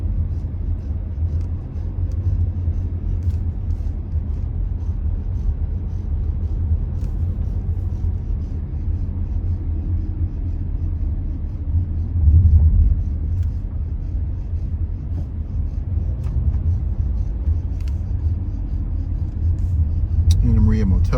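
A car heading north on North Bay Drive on Anna Maria Island after Hurricane Helene gives a steady low road rumble throughout, with a person talking over it.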